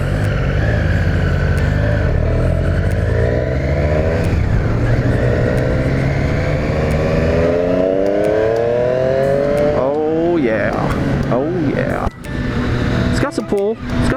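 A 2018 Triumph Street Triple RS 765 motorcycle, fitted with a quick shifter, being ridden hard: loud, close engine drone rising through the gears, with quick shifts and revving, then a sudden drop near the end.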